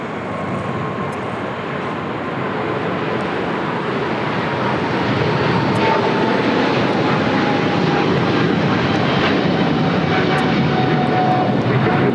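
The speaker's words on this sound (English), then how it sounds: "This is China Eastern Airlines 586 taking off to Shanghai on a 777 300ER." China Eastern Boeing 777-300ER taking off from LAX toward Shanghai: a powerful, building jet engine roar with a steady whining tone, loud and close, growing stronger over twelve seconds with no talk.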